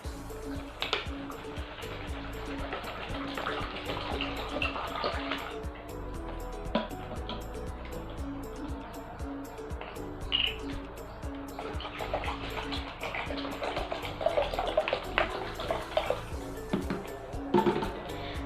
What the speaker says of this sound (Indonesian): baru kalian tuangin 1 liter air semuanya ya